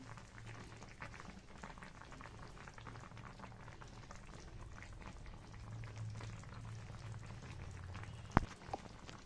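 Tangra fish curry with potato, eggplant and bori simmering in a pan, a steady soft bubbling hiss throughout with a brief clink near the end.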